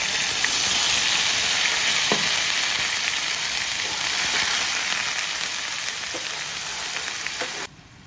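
A paste of boiled onion and chili, added after dried chilies, sizzles in hot oil in a pan for a curd fish dish, a dense steady hiss with a few faint clinks, cutting off abruptly at the end.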